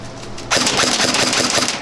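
Suppressed EF Competition MP5 SD6 airsoft gun firing a continuous burst of rapid, muffled thuds in close, starting abruptly after a short quiet lead-in and running steadily to the end.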